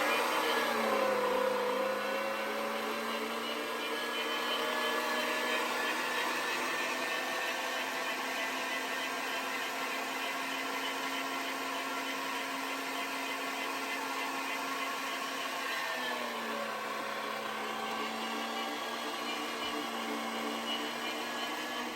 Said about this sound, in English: you're going to want to ground it up again for a second time to give it a nice finer result